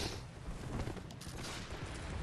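Enemy gunfire in the Bloodborne video game, a dense burst of overlapping shots and booms crackling loudly for a couple of seconds, with no talk over it.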